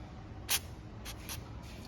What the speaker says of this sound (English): I just apply it to the towel